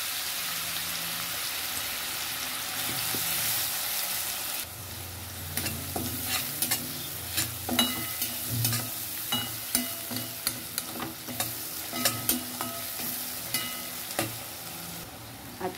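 Cumin and finely chopped onion frying in a pan, a steady sizzle with a sharp spatula stir, then a run of rhythmic scraping and tapping strokes against the pan.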